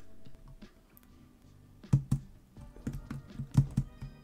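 Computer keyboard keys typed in quick, uneven bursts, close and fairly crisp, with clustered clacks toward the end over a quiet background.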